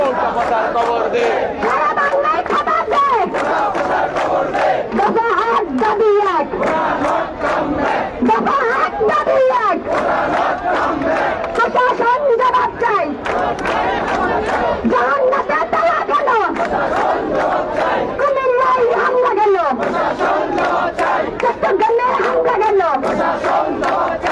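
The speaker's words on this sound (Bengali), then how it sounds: "আপনারা দেখতে পাচ্ছেন নারী শিক্ষার্থী তিনি স্লোগান দিচ্ছেন" A female student leads a street protest for quota reform in Bangladesh, her voice shouting slogans in rhythmic bursts as a loud crowd chants back in unison, the call-and-response repeating steadily for the whole stretch.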